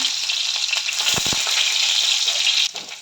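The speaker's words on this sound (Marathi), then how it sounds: "कढईमध्ये मी तेल घातलं तेलामध्ये मी जिरं मोहरी घातली लसूण घातला" Hot oil in a wok with cumin, mustard seeds and garlic for tempering, a loud continuous close hiss and crackle with a few brief pops and stirs, easing off toward the end.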